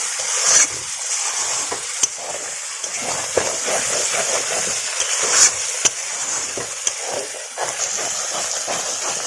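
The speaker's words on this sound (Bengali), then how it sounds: "মশলাটা ভাজা করে হয়ে আসছে" Spice masala fries in oil in a pan for a Bengali jackfruit curry, a continuous hiss and sizzle broken by sharp scraping strokes of a spatula, close and fairly loud.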